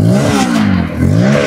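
A Bajaj Pulsar F250 motorcycle engine revs up close and loud, rising twice in quick throttle blips with a throaty mid-pitched roar.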